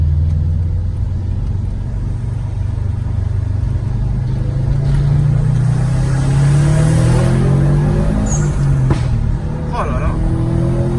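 An upgraded car's engine drones and rumbles while coasting downhill with the window partly open, rising in revs with wind and road noise around it as people talk inside the cabin.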